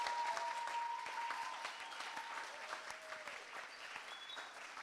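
An audience at a Create Not Hate live stream claps for the creators, a sustained, even round of hand claps with faint cheering mixed in.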